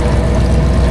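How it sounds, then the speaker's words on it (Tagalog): Water pours steadily from a household faucet (gripo) at close range, a loud, continuous gush with no break. "Ito yung gripo namin."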